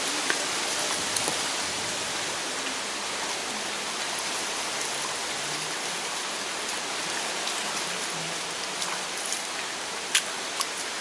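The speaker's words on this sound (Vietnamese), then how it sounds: "Tại vì trời mưa gió quá." Steady rain hissing across a surface with gusty wind noise, broadband and continuous, occasional louder drops or knocks, no talking.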